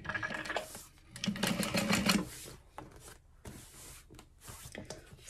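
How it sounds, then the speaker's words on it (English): A sewing machine stitches through the seam allowance of a clear vinyl carry-all, running in uneven bursts with a louder stretch in the middle and quieter pauses, close by with no talking. "So we've basically pulled them apart and we're sewing through that seam allowance."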